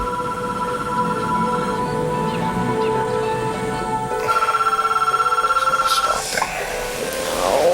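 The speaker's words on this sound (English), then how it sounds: "The phone rang." A telephone rings in a quiet home early on a Saturday morning, a steady electronic trill repeating through most of the stretch, clear and fairly close, with faint room noise underneath and no voices.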